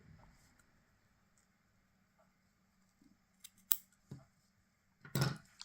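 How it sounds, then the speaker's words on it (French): Scissors snip loose crochet threads on a handmade brooch, a few sharp, close clicks and cuts heard alone in a quiet room after soft rustling. "couper les fils qui dépassent"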